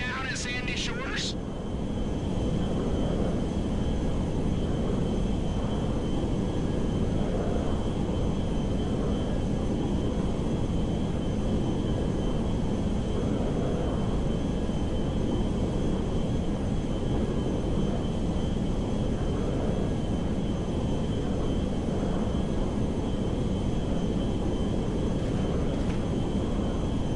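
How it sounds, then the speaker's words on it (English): Steady, droning airplane engine roar in a video game, a plane in flight heard from on board, loud and unbroken, with a short voice near the start. "Now we just gotta land the plane and unload it."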